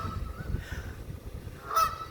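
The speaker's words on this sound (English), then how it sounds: "this goose is having a conversation with this goose way over there by the garbage bin." Two geese call back and forth at 7 a.m. at an apartment complex, one honking nearby in a short burst near the end while the other answers faintly from farther off across the grounds.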